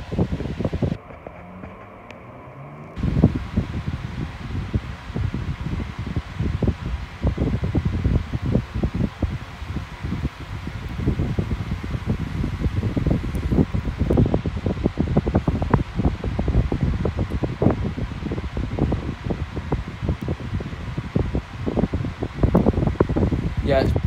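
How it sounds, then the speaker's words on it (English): A Bionaire 16 inch grey oscillating pedestal fan runs on medium with a loud, steady whooshing roar and some rattly buffeting. A voice speaks briefly near the start. "Yeah, it's very loud, blowing a lot of air though."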